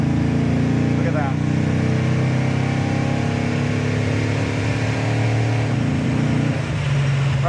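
A 1970 Dodge Super Bee drives and pulls up through speed, its engine a steady, loud droning roar from inside the car, with rising pitch sweeps as it accelerates and voices talking over it.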